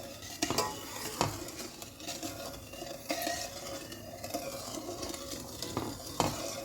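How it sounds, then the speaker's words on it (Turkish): Sugar syrup stirred by hand in a pot on the stove for haşhaşlı revani, a spoon scraping and clinking against the metal in uneven strokes, with a soft sizzle underneath, close and fairly loud, no talking. "Yavaş yavaş karıştırarak şekerin erimesini sağlayacağım."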